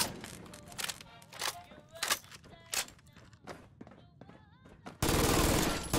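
Gunfire in Fallout 4, a rapid string of sharp shots with crisp metallic clinks between them, followed by a sudden loud burst of noise at the end.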